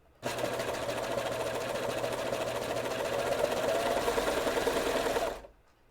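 A home sewing machine runs steadily for about five seconds while stitching stretchy elastic for women's underwear, its motor whirring loudly and evenly, then stops abruptly.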